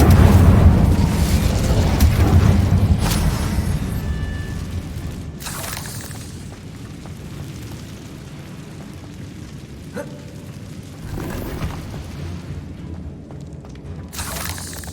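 Incendio fire spell blasts in Hogwarts Legacy, heavy booming bursts that start loud and roll off into a rumbling tail, with sharper fiery cracks erupting again partway through and near the end.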